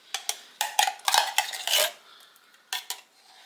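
A spoon scoops cream of mushroom soup into a crock pot, giving a few sharp metallic clinks and scrapes in quick bursts, close and fairly quiet.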